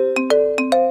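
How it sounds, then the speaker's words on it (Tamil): A mobile phone ringtone plays, with four short, clear melodic chimes in a quick, even rhythm, loud and close with nothing else audible. "ஃபோன் அடிக்குது பாரு"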